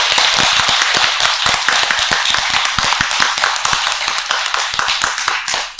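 An audience at a Buddhist sutra lecture claps loudly and close by. Sharp, quick hand claps come in a dense, uneven flurry for about six seconds, with no speech.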